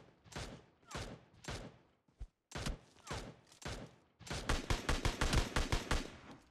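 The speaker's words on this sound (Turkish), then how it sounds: "biri bana uzaktan sıktı bu arada" Gunfire in PUBG Mobile from a distant shooter: several separated sharp shots come first, then a fast, louder string of rapid automatic fire near the end.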